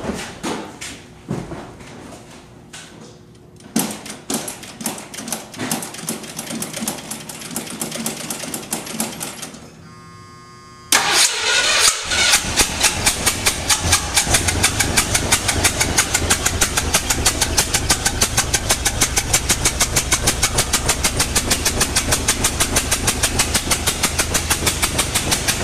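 An old truck engine being started and running rough with a strange noise: uneven cranking and sputtering at first, then after a brief pause a loud, steady rapid ticking clatter close up, with no talk over it.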